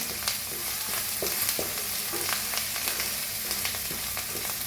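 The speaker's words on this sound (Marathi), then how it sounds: "त्याच्यात टाकूया कढीपत्ता थोडसं हिंग छान मिक्स करून मसाल्याला भाजून घेऊया" Masala roasting with curry leaves and asafoetida in a pan for crisp potato-okra bhaji, a close, even sizzle broken by regular scrapes and clinks of stirring, continuous throughout with nobody talking.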